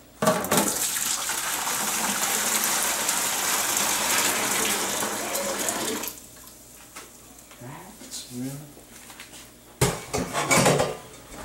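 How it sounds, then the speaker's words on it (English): Hot sugar water being poured into a sanitized winemaking bucket, a steady loud gushing splash lasting about six seconds, followed by quieter clinks and handling sounds of dishes and utensils. "We're just going to take the hot sugar water and we're going to dump it into the sanitized"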